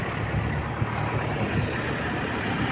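A vehicle passes on a residential street, with a steady engine rumble and a faint high whine, mid-distance and fairly loud, with no talking.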